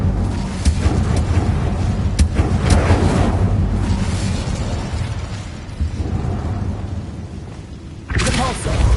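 The Incendio fire spell cast in the video game Hogwarts Legacy, a booming burst followed by a rumbling roar that fades, then another sharp blast near the end, with game battle noise throughout.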